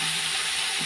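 Spice paste frying in oil in a pan, a steady, bright sizzle with faint crackling, close and continuous for under a second.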